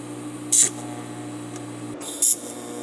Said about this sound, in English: We can go ahead and tack this up and then weld it up.